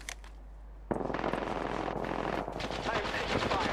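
Rapid automatic gunfire in the Apex Legends battle royale, a dense, loud burst of shots starting abruptly and continuing steadily to the end after a brief quieter lead-in.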